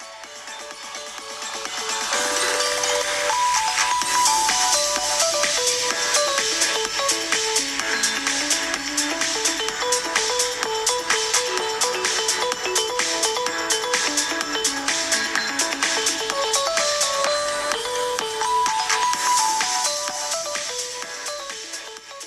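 A melodic ringtone plays through the stereo speakers of a Realme GT Neo 2 smartphone, starting quietly and then looping a bright, layered electronic tune steadily for about twenty seconds before fading, with no talking over it.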